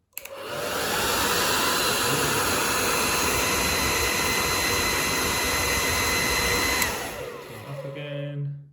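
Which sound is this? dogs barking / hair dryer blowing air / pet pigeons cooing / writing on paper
hair dryer blowing air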